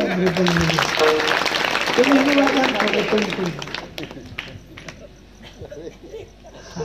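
A crowd at a Marathi kirtan breaks into scattered clapping beneath a speaking voice, the applause thinning into sporadic claps toward the end.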